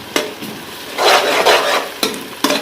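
Garlic sizzles in hot ghee as a spoon scrapes and stirs through it, with a steady fry noise between a few sharp clanks against the pan.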